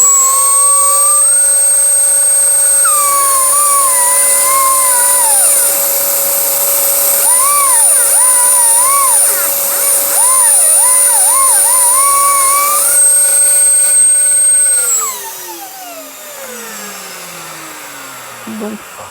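A high-speed motorized rotary tool drills and engraves stone such as beryl, its steady loud whine rising and dipping in pitch as the bit bites, then spinning down near the end.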